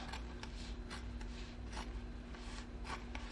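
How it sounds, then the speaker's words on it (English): Scissors snipping through fabric close to a seam while making fabric postcards, a quiet series of soft rasping cuts repeating steadily, up close with no talk. "So all I'm going to do is come in and cut up really close."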